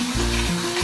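Squeezed banana flower frying in spiced oil, a loud, steady close-up sizzle with low rumbling undertones running through the whole short stretch, no voices.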